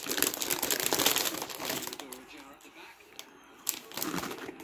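Crinkly plastic snack package of onion rings with herbs and sour cream being torn open and handled, loud rustling and crackling close up, fading briefly before more crinkling, while someone talks over it.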